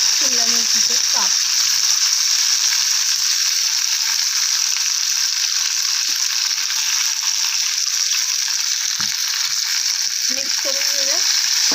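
Capsicum slices sizzle and sputter steadily in hot oil in a pan on the stove, a continuous bright frying hiss throughout, with a voice speaking briefly at the start and near the end.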